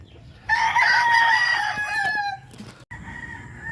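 A rooster crows nearby among backyard chickens, one long strong call with a falling tail, followed by short clucks and a few soft clicks against quiet ambience.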